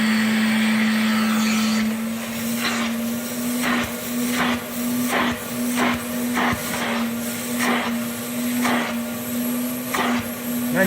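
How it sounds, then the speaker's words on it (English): A vacuum drones steadily while sucking carpet spotter out of carpet, a constant motor whine broken by repeated short bursts of rougher suction as the nozzle passes back and forth. "Now use the vacuum again. Suck it up."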